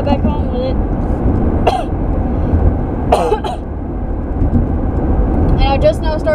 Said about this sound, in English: And I just now started coughing,